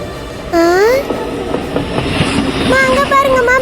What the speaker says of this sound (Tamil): அங்க பாருங்கம்மா, மெட்ரோ ட்ரெயின்,